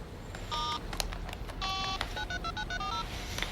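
Telephone keypad tones dialing a number, a quick series of distinct electronic beeps in uneven groups, clear and close with no talking.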